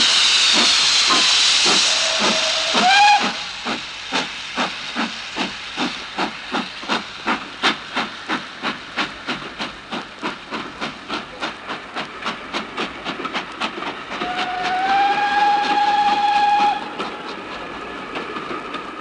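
A steam locomotive departs with a loud hiss of steam, then settles into a steady run of rhythmic chuffs that grow quicker, with a sustained steam whistle sounding near the end.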